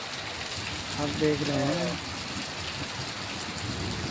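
Heavy rain pours over the Pratap Pura maize grain market in Jalandhar, Punjab, as a steady, dense hiss throughout. A voice talks briefly over it.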